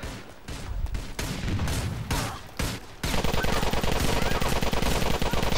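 Rapid automatic gunfire in a GTA IV multiplayer match, with bursts of shots over a loud, dense game soundscape that builds into continuous firing in the second half.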